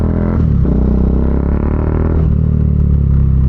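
A Bajaj Dominar 400 motorcycle with an aftermarket Zeus muffler revs close by, a loud, deep, bassy engine drone with slight rises and dips in throttle, no talking.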